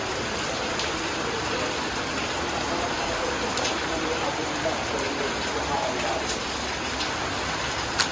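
Steady, continuous rain falls throughout at an even level, a dense broadband patter with no breaks, during a prolonged downpour around a rabbit farm.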